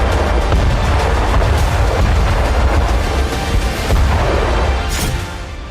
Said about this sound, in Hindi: यूक्रेन के नोवा काखोकवा में रशियन एयरफोर्स ने फैब 500 बमों से जोरदार हमले किए।